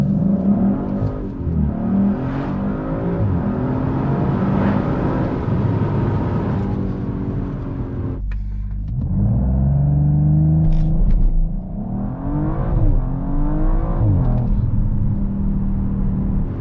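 A 2019 Audi RS5 Sportback's 2.9-litre V6 bi-turbo engine roars and revs steadily for a long stretch, rising and falling in pitch as it accelerates, loud and close, with no talking.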